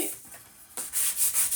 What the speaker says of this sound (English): burnish really good